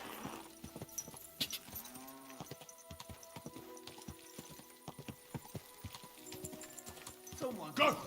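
Quiet clip-clop of horse hooves in a steady trotting rhythm in the video game Kingdom Come: Deliverance II, with faint game sounds and a brief animal bleat near the end.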